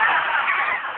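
A parrot imitates a chimpanzee with a loud, harsh, honking burst of about a second, close up and alone.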